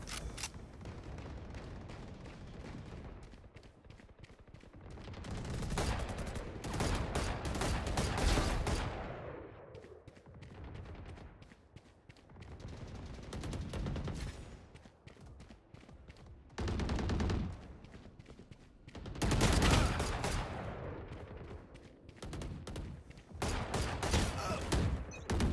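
Gunfire from the shooter game Valorant in a team deathmatch, loud bursts and rapid volleys of shots recurring throughout, with brief lulls between and faint speech here and there.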